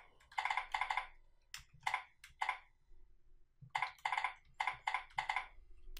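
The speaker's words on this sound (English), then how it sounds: "I can click the email address field and start to type in my email address" Bursts of computer keyboard typing while an email address is entered, quick clusters of close key clicks separated by short pauses, with no voices.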